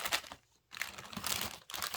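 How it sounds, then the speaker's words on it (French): An item is slid back into a paper envelope during an unboxing of cross-stitch kits, giving close, soft crinkling and rustling of paper in several bursts with a short pause, no talk. "On va remettre ça dans l'enveloppe"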